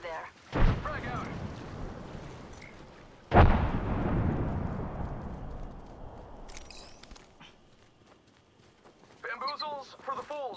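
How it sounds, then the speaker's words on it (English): Two heavy booms in the video game Apex Legends, the second from a frag grenade, each followed by a long rumbling decay. Some footsteps and brief game sounds come near the end, with a voice talking over parts. "Threw my grenade out. Out you go. I see an enemy over there. Frag out."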